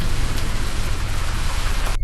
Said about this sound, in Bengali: সেদিন বাইরে অনেক বৃষ্টি পড়ছিল